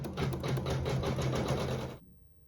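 A sewing machine stitches a fabric seam with a steady, fast mechanical whir and rhythmic needle chatter, running close and even before stopping abruptly near the end.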